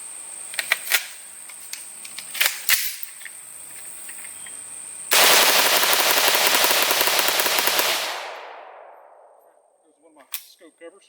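A KS47/AR47 rifle in 7.62x39 fed from a sand-filled Bakelite magazine fires a few single shots, then a sustained rapid burst of about three seconds that cuts off, with loud ringing echo fading away afterward.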